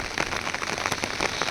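Rain falls during a flood on the Ghod river, a brief, dense patter of drops striking surfaces at moderate loudness, with no talking.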